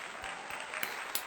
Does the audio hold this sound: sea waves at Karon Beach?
no